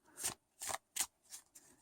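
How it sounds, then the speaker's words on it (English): Joie de Vivre tarot cards being shuffled by hand at a table, five brisk papery bursts of riffling in an even rhythm, close and fairly quiet with short silences between. "And you can also easily rifle shuffle them."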